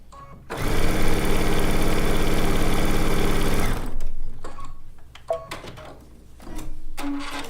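A sewing machine stitches a quilt seam in a fast, even mechanical whir for about three seconds, then stops, followed by light clicks, fabric handling and small thumps.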